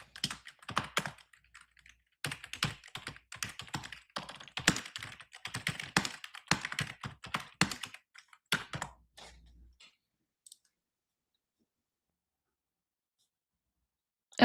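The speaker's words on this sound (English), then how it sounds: "We got angry typing again" Fast, forceful typing on a computer keyboard: dense bursts of sharp clicking keystrokes close up for about ten seconds, then stopping into near silence.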